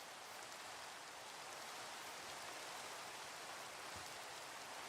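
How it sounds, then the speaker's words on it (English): Rain pours continuously in the Minecraft video game, a dense and even hiss with no break and no voices. "Oh, the rain."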